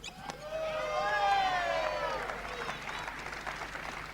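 A crowd at a 2008 European Badminton Championship doubles match breaks into applause, with a rising cheer of voices swelling over the clapping before it settles into a steady, fairly distant wash.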